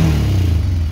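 A cold 1990 Honda Fourtrax 300 ATV engine is run with added throttle, producing a brief, loud, rough low rumble.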